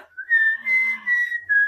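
A person whistles a short tune alone: a clear, steady, high-pitched melody broken into a few sustained notes with brief pauses, close and fairly loud.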